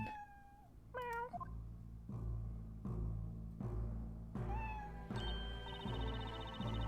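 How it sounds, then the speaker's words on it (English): A cat meows repeatedly in the Professor Layton vs Phoenix Wright video game, several drawn-out, rising and falling cries over a low musical drone with soft game sound effects. "Oh, it's a cat."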